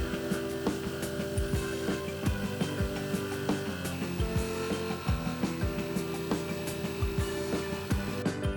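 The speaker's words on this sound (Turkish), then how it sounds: "aracımızın alt katı için plywoodları dekopaj ile kesmeye başladık." Jigsaw cutting plywood for the floor of a small camper van, a continuous buzzing saw drone with repeated rhythmic clicks and knocks, steady and close.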